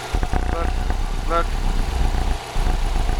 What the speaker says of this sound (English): the exhaust sounds beastly and mean